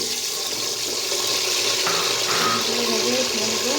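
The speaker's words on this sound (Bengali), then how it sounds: "হালকা ভেজে নিচ্ছি ডিমগুলি" Eggs fry lightly in hot oil, just after chopped onions were fried, while egg pulao is being made; a steady, close, unbroken sizzle hisses throughout.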